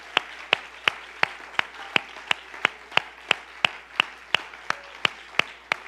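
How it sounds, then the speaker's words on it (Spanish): A church congregation on Easter Sunday claps in steady unison, crisp evenly spaced claps repeating about three times per second. "dé un aplauso al Señor"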